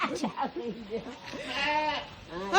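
Wavering goat bleats, a couple of quavering calls close by at a petting zoo, with voices mixed in around them.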